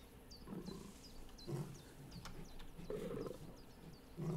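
A lion in a hunting video game gives faint low grunts and breaths, with bird-like chirps repeating over quiet ambience.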